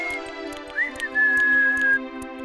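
A cartoon tin man whistles while oiling himself: a clear, near whistled tune with short rising notes and then one long sustained note. Soft music plays underneath and there is no talking.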